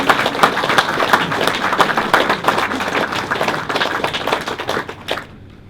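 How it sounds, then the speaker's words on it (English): A large crowd gives a sustained round of applause at an official Queen's Award for Voluntary Service presentation to the Watercress Line Heritage Railway Trust, loud and dense throughout before cutting off sharply near the end. "I think that deserves a round of applause."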